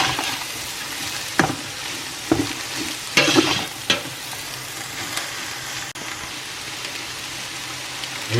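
Food being stirred in a sizzling pan over a steady frying hiss, with a few sharp scraping strokes and clatters scattered through; no talking.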